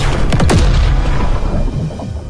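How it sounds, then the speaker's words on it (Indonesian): Explosion sound effect: a loud, sharp boom with a quick burst of crackling impacts, then rumbling debris decaying over about two seconds, alone without talk. "tidak jauh dari tempat itu terjadi ledakan."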